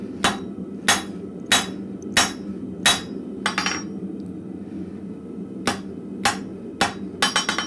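A blacksmith strikes metal with a hammer at a forge, loud ringing blows in uneven clusters with pauses between runs and a quick burst of strikes at the end, close and unaccompanied by talk.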